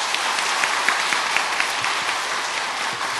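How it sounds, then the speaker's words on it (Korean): A church congregation at an elder's retirement service claps together in a dense, steady round of applause, many hands at once, filling the room evenly from start to end. "박수 한번 쳐주시죠."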